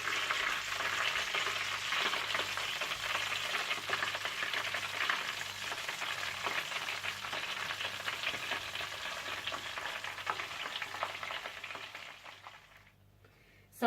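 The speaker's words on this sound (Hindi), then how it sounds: "इसी तरह से आप बाकी चिकन को भी फ्राई कर लीजिएगा।" Chicken drumsticks deep frying in hot oil make a dense, even crackling sizzle, heard close and steady for a long stretch before it suddenly fades away near the end.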